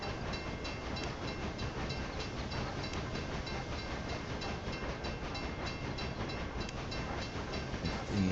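Trains running in the video game Railway Empire, a steady dense rail rumble with faint clickety-clack and hiss, continuous and even in level throughout with no voices.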